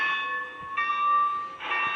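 An electronic bell sounds from a Lionel-style model train engine running in TMCC mode, in a shop. It rings as steady metallic tones that shift pitch twice, clear and close, with no talking.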